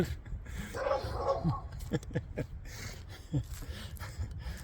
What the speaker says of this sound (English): staring and barking at the chicken I hung because he doesn't know what it is